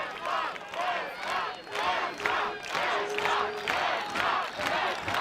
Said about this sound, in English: you can hear the crowd cheering up for Denmark here